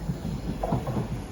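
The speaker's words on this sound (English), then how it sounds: "Here comes my train, which is going to take me to Lye." A train arriving at a station on the Birmingham to Worcester line rumbles and clatters nearby, with a soft, steady mechanical roll and faint hiss.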